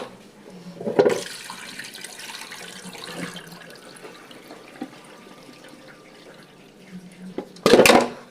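Ration toor dal lentils are washed in water for sambar, with two sharp splashing pours near the start and end and quieter swishing and trickling between them.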